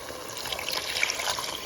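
Lentils, water and bay leaves pour into a pot, giving a soft, continuous trickle and splash of liquid, close by and fairly quiet, with no voices.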